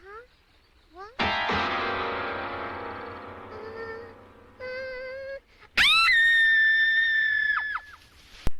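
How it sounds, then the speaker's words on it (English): A girl's shrill scream from the anime Nadia: The Secret of Blue Water, part of a dubbed scene: a loud, wavering, high-pitched cry over background music and other voices, ending abruptly. "That scream in the streamlined version is far more chilling."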